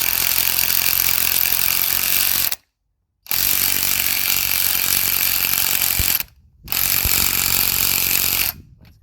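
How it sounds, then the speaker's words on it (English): Power tool driving and tightening the top nut on a front shock absorber strut for a Vauxhall Opel Combo, Fiat Doblo, Citroën or Peugeot van, in three loud, sustained buzzing bursts separated by short pauses, with no talk. "We're just gonna place it like that and drive the nut in. We're gonna tighten the nut."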